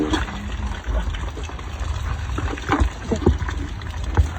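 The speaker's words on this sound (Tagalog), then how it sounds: "Ang lakas ng tubig dyan." Cold, strong stream water rushing and gurgling steadily nearby, with small splashes and knocks over the flow and no talk.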